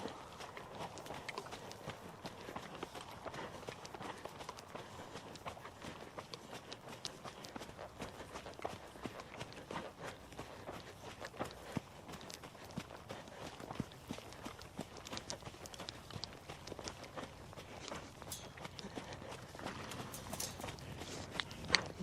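Horse hooves at a medium walk during a dressage schooling session, soft continuous clip-clop steps heard faintly from a distance over outdoor background noise.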